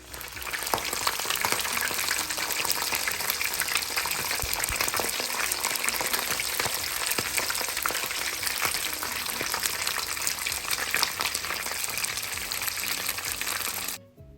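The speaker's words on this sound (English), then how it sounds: "fry away, fry away" Jamaican escovitch fish frying in a hot pan of oil, a loud, steady, crackling sizzle that runs unbroken for the whole stretch with no voices.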